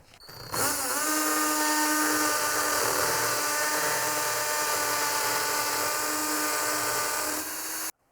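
A high-pitched electric drill whines steadily after a brief start, drilling into a solid wall at close range for several seconds before cutting off.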